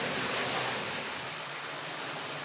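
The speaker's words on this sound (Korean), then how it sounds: "동굴의 가장 깊숙한 곳에 들어가면 물방울은 시원한 물줄기가 되어 쏟아집니다." Cool water gushes in a steady, dense rush deep inside a limestone cave, a continuous close stream with no voices.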